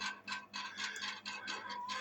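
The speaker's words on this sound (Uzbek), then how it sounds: "ventilyatorni yoqdik." A fan on a heating boiler is switched on and runs with a soft mechanical ticking that repeats steadily. The sound is faint and close.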